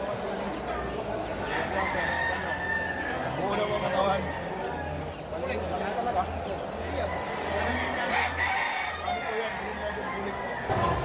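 A gamecock crows amid a busy, noisy poultry expo, with other fowl and background chatter mixed in throughout.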